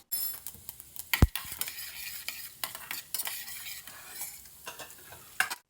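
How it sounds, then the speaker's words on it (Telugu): Chana dal, urad dal, mustard seeds and cumin crackle in hot oil as a tempering, a soft, steady sizzle broken by clinks of a spoon against the pan and one sharp knock. "ఒక స్పూన్ పచ్చిశనగపప్పు అలాగే ఒక స్పూన్ మినపప్పు ఒక హాఫ్ స్పూన్ ఆవాలు ఒక పావు స్పూన్ జీరా కూడా వేసుకొని పోపుని ఈ విధంగా వేగనిద్దాము"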